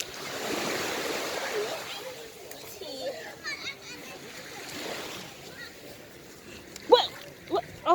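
Waves wash in at Grand Anse Beach, with a soft surf rush swelling and fading twice, while children play and people talk close by.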